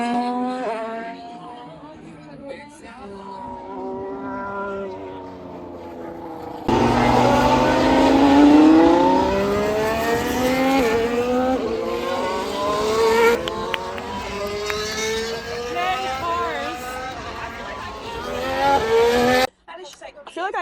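Formula One race cars rush past at speed, loud engines whining through rising and falling pitch sweeps over a long stretch, with talk underneath.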